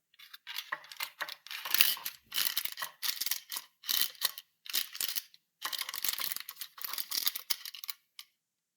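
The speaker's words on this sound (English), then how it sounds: "Lining the bottom with parchment paper." Rapid crisp snipping and crinkling of parchment paper close up while lining a pie form, short rhythmic bursts repeating with brief gaps, no voices.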